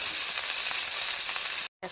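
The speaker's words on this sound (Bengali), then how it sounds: "শাক ভাজাটা পুরো হয়ে গেছে, অনেক সুন্দর হয়েছে" Leafy greens fry loudly in a pan, a dense continuous close sizzle with faint stirring, cutting briefly to silence near the end before resuming.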